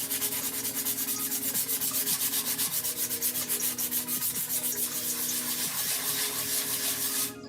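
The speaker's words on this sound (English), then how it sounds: "This one's hard to sand." A large piece is hand-sanded in an art studio, with loud, close, rhythmic rasping strokes repeating in a steady back-and-forth pattern and a faint background hum.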